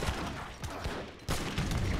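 An organ gun fires a rattling volley of rapid shots in a strategy game battle, several sharp cracks bunched close together at moderate loudness.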